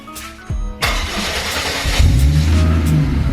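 A Ford XR6 Turbo fitted with a side splitter exhaust cranks and fires up, the engine catching with a loud burst and settling into a deep, rumbling idle close to the microphone.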